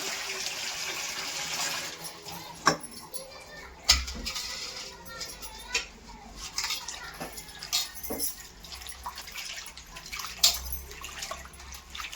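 Ponnaganti leaves are swished and rinsed by hand in a vessel of water in a home kitchen, giving continuous close splashing and trickling with scattered sharp knocks, while voices are heard in the background.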